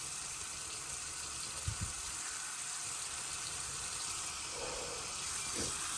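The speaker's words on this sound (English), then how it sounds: "So there's still hot water coming out." Hot water running out of a water heater, a steady faint hiss and trickle of flowing water with a couple of soft thumps, heard close and alone without speech.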